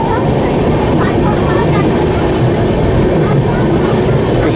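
The Raigarh–Gondia Jan Shatabdi Express rolls into a halt, a continuous loud rumble and rattle of wheels and carriages close by, steady throughout with broadband noise and no clear pauses.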